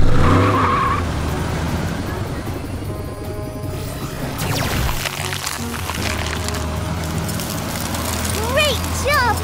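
A cartoon monster ice truck drives with tires skidding and squealing, mixed with engine noise and playful sound effects, loud and busy throughout, with brief chirpy effects near the end.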